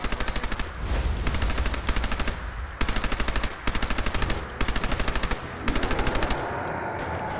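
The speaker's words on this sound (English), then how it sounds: "I have a submachine gun. Should I do a submachine gun?" A submachine gun in Fallout 4 fires in a series of rapid, evenly paced bursts separated by short pauses, loud and close with no talking.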